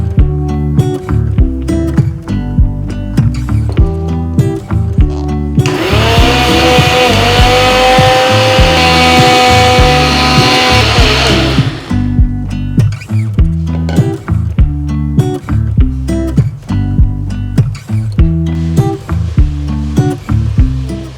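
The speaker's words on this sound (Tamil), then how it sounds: "நம்ம எடுத்து வச்சிருக்கிற ரவையை மிக்ஸி ஜாரில் சேர்த்துட்டு நைஸாக" Mixer grinder jar grinding semolina (rava) finely, one loud whirring burst of about six seconds with a rising whine, set against rhythmic background music.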